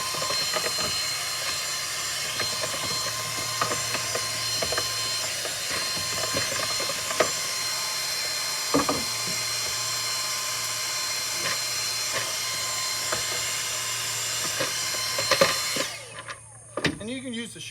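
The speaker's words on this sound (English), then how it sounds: "and you can use the shop vac." A cordless shop vacuum motor runs with a steady whirring hiss, punctuated by occasional clicks and knocks, before cutting off near the end.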